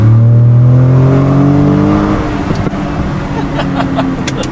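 A Ford Raptor truck with a 10R80 transmission accelerates hard in second gear, its engine note rising loud and close, then steadying into a strained roar with no talk over it.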